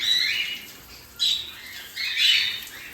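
Cockatiels give loud, harsh squawks while being bathed in hot weather, three rough bursts close by separated by short gaps.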